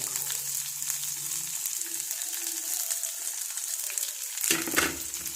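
Garlic frying in a pan, a steady close sizzle with faint clinks and stirring scrapes, a sharper burst of crackle near the end.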